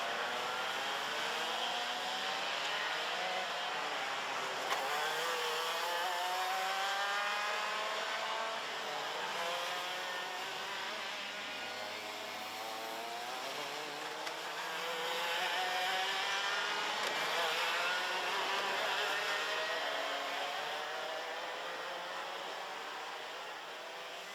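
X30 senior racing karts at Ostricourt, a driver powering sideways out of the final corner, with a steady high-pitched engine drone at middle distance that rises and falls with speed.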